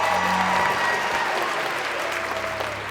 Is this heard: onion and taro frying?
no